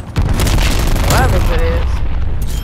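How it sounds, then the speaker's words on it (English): Sustained turret fire in the video game Call of Duty: Black Ops Cold War, a loud, dense stream of booming gunfire and explosions with chaotic battle noise layered over it. "that turret is putting it work"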